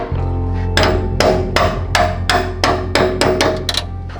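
A bolt hammered into the suspension of a lifted Toyota, about ten sharp metallic strikes in a quick, fairly even rhythm, loud and close with no talking.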